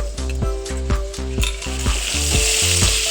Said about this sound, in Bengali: এই যে দেখেন শিম আর আলু লাল লাল ভাজা হয়ে গেছে